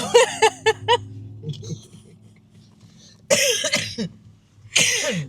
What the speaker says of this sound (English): y'all hear my wife got all this coughing going on